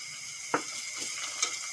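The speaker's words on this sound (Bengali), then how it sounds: "এখন সামান্য একটু আদা বাটা দিয়ে দেবো" Ginger paste drops into oil with onions already fried deep red, setting off a soft, steady sizzle with a few faint stirring clinks and pops.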